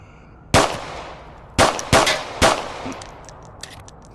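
M9 pistol fired in an Oculus Rift VR game: four sharp, loud shots spaced irregularly over a few seconds, each with a brief ringing decay, and faint clicks afterward.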